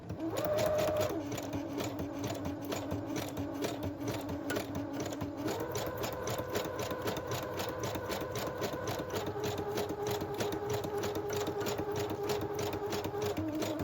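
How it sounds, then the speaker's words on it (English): Sewing machine stitching a decorative line along the top flap of a small pouch made from paper scraps, a steady rapid needle chatter running continuously and close up, with slight shifts in pitch as the speed changes. "sometimes I like to also sew just for detail along the top flap, and I'll just do that here."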